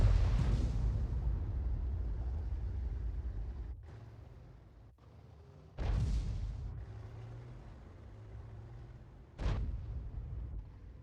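Heavy artillery booms from an FV3805 self-propelled gun in a tank video game, with three deep blasts spaced a few seconds apart over a low rumbling background.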